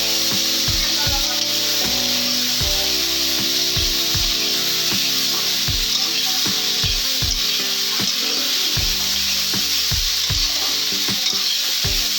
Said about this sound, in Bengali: আমি এখন আলুটা ভেজে নিচ্ছি